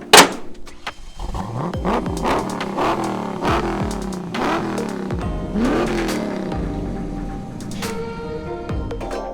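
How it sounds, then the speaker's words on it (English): Vintage Shelby GT500 with a Ford Racing V8 cranking, catching and revving loudly nearby, with several sharp rising and falling revs over a steady rumbling idle. "make sure the battery's not flat, then we can start her up."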